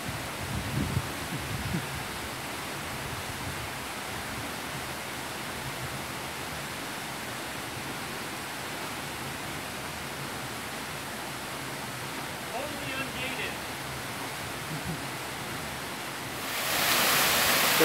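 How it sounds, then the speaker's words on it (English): Water pouring and spraying steadily through leaky old wooden lock gates on a historical canal, a dense continuous rushing roar heard close up, with a brief bump of louder wind-like noise at the end and no voices. "The water is running like this all the time. It's not a watertight seal at these locks."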